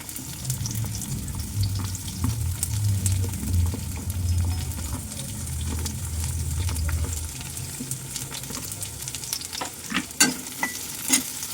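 Onions fry and sizzle in a pan while being stirred, with a steady crackling hiss and scraping stirs for most of the clip, then sharper clinks and taps near the end.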